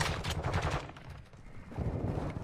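Rapid bursts of imitation gunfire crackle from a decoy grenade in Call of Duty, fairly loud and continuous in two waves with a brief lull between them, over game background noise.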